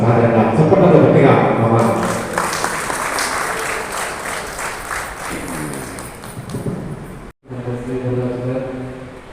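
Loud applause rolls through a gathering at an Alphors free TET coaching event in Karimnagar, heavy clapping swelling then easing across several seconds, framed by a voice and tonal sound before and after a short cut.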